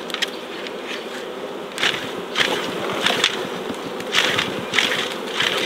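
A honeybee swarm buzzes steadily and close, a dense drone of many insects with wingbeat surges rising and falling every second or so.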